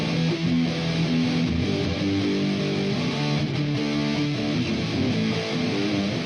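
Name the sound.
distorted rock guitar rendition of a song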